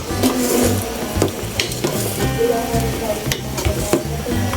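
Vegetables stirred into pancit bihon noodles frying in a pan, loud continuous sizzling with scraping and tossing of the utensil throughout.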